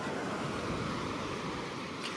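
Ocean waves break on the beach at Tiruchendur as a continuous, broad roar of surf mixed with wind noise, steady and fairly close, with no talk during it.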